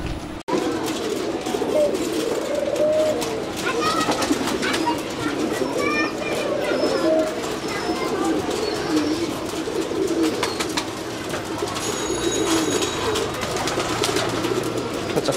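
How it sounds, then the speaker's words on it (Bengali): A loft of some 150 pairs of pigeons coos close by, repeated soft throaty burbles overlapping in an irregular chorus, with occasional chirps and fluttering over a steady background. "আপনার এখানে তো দেখতেছি অনেক কবুতর আছে"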